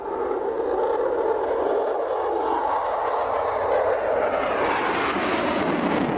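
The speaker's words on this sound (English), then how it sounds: "then the Typhoon" A Eurofighter Typhoon jet flies past at a Scottish airshow, its engine roar loud and close, rising into a harsh sweeping whine as it passes overhead, with no voices.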